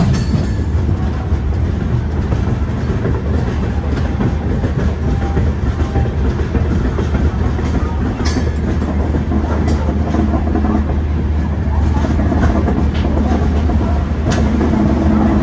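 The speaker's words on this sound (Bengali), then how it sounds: "আর এইবার ঢুকছে খড়গপুর রেলওয়ে স্টেশন" The Howrah–Barbil Jan Shatabdi Express rumbles along the rails with rhythmic clacking and a steady low roar, loud and close, slowing as it rolls into Kharagpur railway station.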